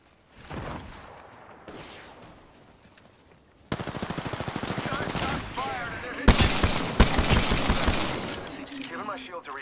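Video-game gunfire in an arena shooter: after a quieter stretch with faint shots, a loud rapid automatic burst starts, then even heavier overlapping fire with whooshes and effects, under occasional talk.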